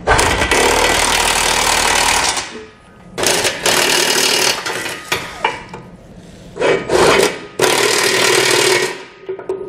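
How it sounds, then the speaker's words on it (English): Socket wrench and ratchet work tightening Curt trailer hitch bolts with a 22 mm socket on a 2019 Ram 3500, giving loud broadband rasping and rattling bursts that alternate with short pauses. "We can now go back and tighten down all of our hardware using a 22 millimeter socket"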